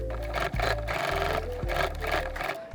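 A sewing machine stitches a denim jacket hem with thick yellow denim topstitching thread, running in steady bursts with brief pauses between runs, close and loud.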